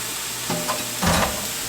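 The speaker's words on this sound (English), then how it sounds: "Now I'm going to add my beef back in." Beef going back into a hot pan with broccoli and garlic, giving a loud sizzle with a couple of stirring bursts over a short span.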